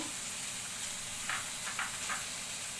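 Chopped onion frying in a spoonful of oil in a pan: a soft, steady hiss with a few brief sizzling spurts. The sound is quiet and close.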